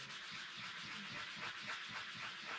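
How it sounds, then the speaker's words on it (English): Steady, continuous abrasive sanding on a propeller being balanced, a dense rasping hiss with a faint rhythmic back-and-forth, close by and without speech. "I know I'm going to do a lot of sanding"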